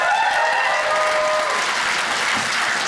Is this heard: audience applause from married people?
yes